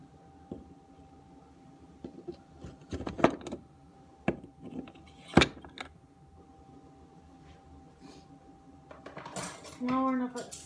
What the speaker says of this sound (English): Now we're gonna put silverware away.